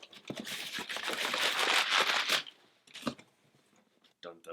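A mail package is cut open with scissors and its plastic packaging crinkled: a loud, close burst of crackling and rustling for about two seconds, then quieter handling and a few sharp snips and taps.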